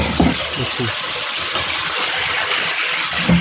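Water gushes steadily into a newly fitted water tank connected with CPVC supply pipes, a continuous rushing flow with a few voices speaking over it.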